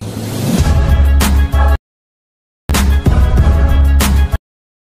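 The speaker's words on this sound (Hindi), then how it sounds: "मैं आपको यहाँ पर बैकग्राउंड म्यूजिक सुना देता हूँ।" Background music used by fact-video creators, playing in two loud, dense bursts over a heavy sustained bass line, separated by a short stretch of complete silence, with no talking.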